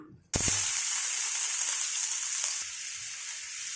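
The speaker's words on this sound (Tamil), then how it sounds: "இப்போ நம்ம சோம்பு பொரிஞ்ச உடனே இந்த வெங்காயம் போட்டுக்கலாம்" Onions hitting hot oil with fennel seeds start a sudden loud sizzle that holds steady and close, with light stirring clicks, while egg gravy is cooked.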